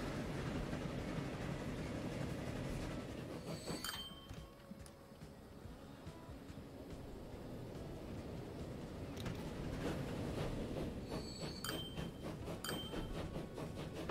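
Train running in the game Transport Fever 2, a steady rumbling rail drone with faint creaks and mechanical clanks, quiet and continuous, no talk.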